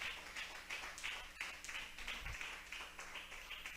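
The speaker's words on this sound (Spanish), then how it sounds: "Vamos a brindarle un fuerte aplauso a nuestro Dios." A church congregation claps together in steady, fairly even applause that carries on throughout, heard quietly and from some distance.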